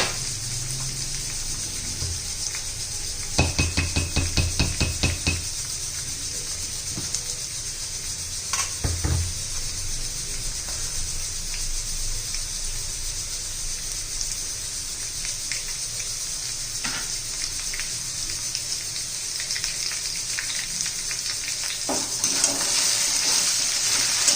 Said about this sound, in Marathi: बटाटा हा चांगला परतून घ्यायचा आहे म्हणजे असं तुपातच तो चांगला शिजतो